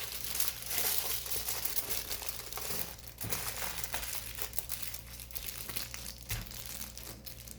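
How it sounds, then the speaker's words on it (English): Aluminum foil crinkles and crumples as it is wrapped around an eggplant before fire-roasting, a steady close rustle with sharper crackles throughout. "I'm going to take a piece of aluminum foil and wrap this around"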